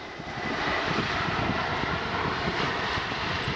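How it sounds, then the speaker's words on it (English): Engines of a Boeing 747 airliner during a steady, nearly gliding 3-degree descent produce a constant, moderately loud broadband rumble and whoosh inside the plane, with no talking. "The flight path is now a steady descent at the standard 3 degrees to the horizontal, and the engines of this 747 are hardly being used at all."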